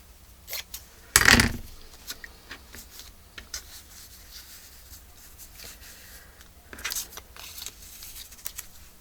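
Scissors snip through junk mail paper in a craft setting, one loud close cut early on followed by softer scattered rustling and a second burst of paper handling.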